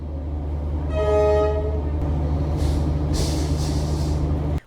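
A train horn sounds once over a steady low rumble of rail noise at a train station in Vietnam, followed by hissing bursts like air brakes releasing.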